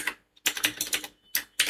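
Quick bursts of typing on a computer keyboard as a search is entered into a web browser on Windows 11: close, crisp key clatter in several short runs separated by brief pauses.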